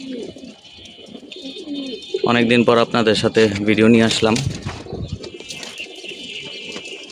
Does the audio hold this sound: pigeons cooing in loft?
yes